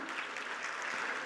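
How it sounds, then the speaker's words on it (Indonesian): An audience applauding graduating SMA Khadijah students at a school ceremony, a brief wash of faint, steady clapping from a crowd heard at a distance. "Tepuk tangan."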